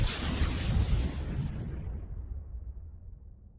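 A large guided torpedo's fuel tank explodes in the video game Starbase, one loud booming blast that rumbles and decays over a few seconds, alone with no talk.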